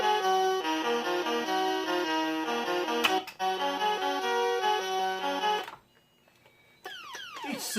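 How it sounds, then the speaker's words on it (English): Commodore 64 video game audio: bright chiptune melody notes play first, then a short quiet gap, then a laser effect of rapid sweeping electronic tones near the end, with no voices. "It's the sound of the laser."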